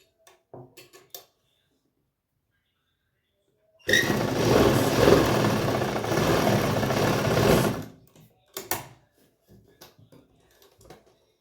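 A sewing machine runs a straight stitch along a heavy patiala salwar in one steady, loud four-second burst, with small handling clicks and knocks of fabric before and after.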